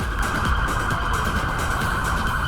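A continuous, loud siren sounds near the entrance of Maracana stadium in Rio de Janeiro during police activity, holding a steady wailing tone against a broad background of traffic noise.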